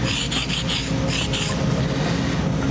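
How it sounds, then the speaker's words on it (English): Sandpaper rubs back and forth along the cut edge of a composite panel in a few quick rasping strokes, close and steady, with a low background rumble underneath. "we can use just simple sandpaper to do that. And you can see it sands really easy."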